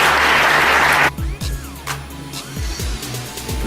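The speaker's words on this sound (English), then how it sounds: "can you give them a round of applause" An audience at a university forum launch applauds in a burst of dense clapping that stops abruptly after about a second, followed by quieter background noise and thumps.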